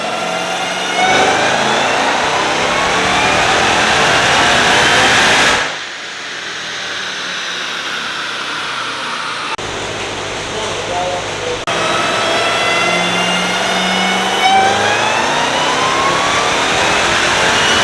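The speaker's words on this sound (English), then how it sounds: "So today we got Jakeem Grant's 2020 Jeep Trackhawk" A modified 2020 Jeep Trackhawk engine revs hard and accelerates, a loud sustained roar rising and falling in pitch with abrupt shifts between passes.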